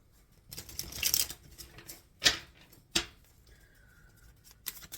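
Tarot cards shuffled by hand in a quiet room, giving several sharp riffling bursts and crisp slaps spaced over a few seconds, close and fairly loud with no talking.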